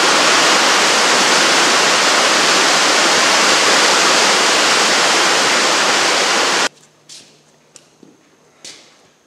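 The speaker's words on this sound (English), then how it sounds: "Had a sudden rainstorm start up and made it really hard for you guys to hear me" A sudden, heavy rainstorm roars as a loud, dense, steady wash of noise, then cuts off abruptly, leaving a few faint knocks and clicks in a quiet room.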